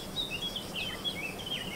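In the strategy game Humankind, faint chirping birds call in short repeated high phrases over a soft, steady outdoor ambience, with no talking.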